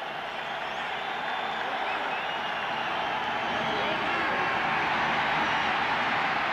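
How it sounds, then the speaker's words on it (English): Stadium crowd at a 1991 American football game between Washington and Chicago, a broad sustained roar of cheering that builds slightly in loudness, with a faint broadcast commentator voice underneath. "Now the crowd finally showed up, Pat."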